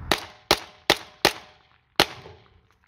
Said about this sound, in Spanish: Son 5 tiros expansivos, Hop Munitions. Pero ahora con la super.